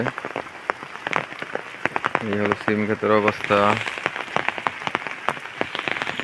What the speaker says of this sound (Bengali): সারাদিন ধরে বৃষ্টি পড়তেছে